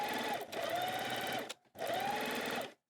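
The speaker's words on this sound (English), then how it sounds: "We do this by running a zigzag stitch along the edge." Domestic sewing machine running a zigzag stitch along a fabric edge, two steady whirring bursts with a brief pause between them, close and clear with no talking.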